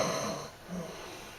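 A man imitates a roommate's snore with his voice, making a raspy, rattling inhaled snort that fades and then swells again, close and fairly loud, with no other talk.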